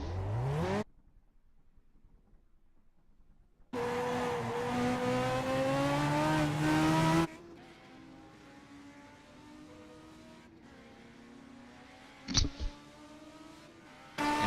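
A car doing donuts, its engine revving in strong bursts with rising whine and tire noise, then dropping to a quieter distant drone with a brief sharp squeal near the end.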